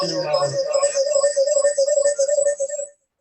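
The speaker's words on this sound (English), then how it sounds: "Got some music going on." Music plays in a room before a bird-watching talk, a tune of sustained tonal notes with a bright upper line that carries along steadily, then cuts off just before the end.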